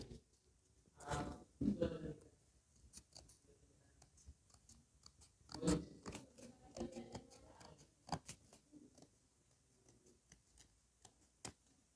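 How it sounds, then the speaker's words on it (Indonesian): Scissors snip through paper to cut out circles for a classroom fraction activity, giving a scattered series of close, crisp cutting clicks with quiet gaps between them. "jika sudah digunting seperti ini ya, semuanya digunting"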